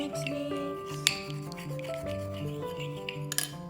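Homemade bath bomb mixture being stirred and mixed by hand, soft rubbing and scraping with a few light clinks of a container, close and steady under background music.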